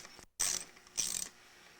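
A socket wrench ratcheting on a stud of a Parilla high-cam kart engine during teardown, two short quiet bursts of clicking separated by a pause, alone with no talk.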